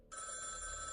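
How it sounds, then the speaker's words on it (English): An old-style telephone bell rings in one steady, bright burst that starts abruptly after a brief pause and continues to the end, fairly faint, with no voices. "the phone rings about 3 a.m."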